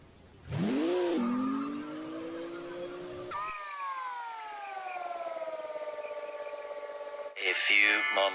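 A rear wheel drive car in the Car Parking Multiplayer game does a burnout: synthetic engine tones wind up and hold in a long whining rev, then cut to a harsh burst of tyre screech.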